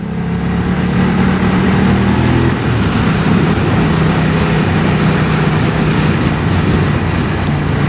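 BMW F 900 R motorcycle ridden on a damp road, steady loud wind roar buffeting the helmet with a low engine drone underneath, continuous throughout.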